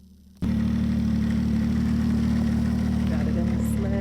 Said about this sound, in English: Got the snow machine warming up